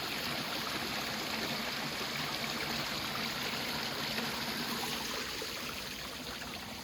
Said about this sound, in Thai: บอกว่าเป็นน้ำตก